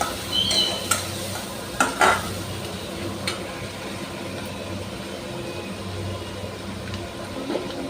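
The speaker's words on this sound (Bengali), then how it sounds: "আবারও মশলাটাকে খুব সুন্দরভাবে কষিয়ে নিচ্ছি" Turmeric and chili powder masala is sautéed in a pan for a fish curry, with a soft, steady sizzle under repeated spoon scrapes and a few sharp metallic clinks early on.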